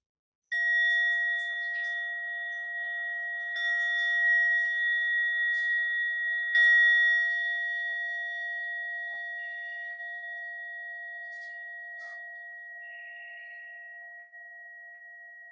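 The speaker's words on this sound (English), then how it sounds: "once you hear the bells ring 3 times" A meditation bell struck repeatedly, each clear metallic tone ringing out and layering into a long sustained shimmer that slowly fades, alone in a quiet room.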